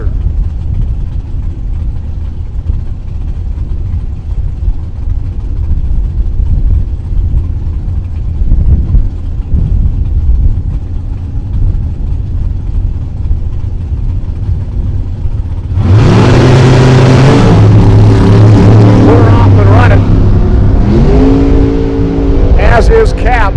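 Drag racing cars, including a Corvette Roadster, launch down the strip; after a stretch of low rumble and commentary, loud engines suddenly roar and rev up close, then hold a strong high run under an announcer's voice.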